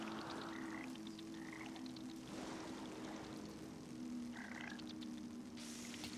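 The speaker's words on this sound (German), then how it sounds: "Die Kröten." Toads croak in a video game, a steady chorus of repeated croaks over a constant low ambient hum with watery background sound.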